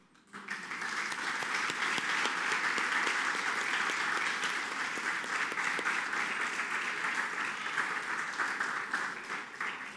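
A church congregation applauds at a Sunday service, a dense and steady wash of clapping that swells within the first second and holds at full strength for the whole stretch, broad and reverberant across the room.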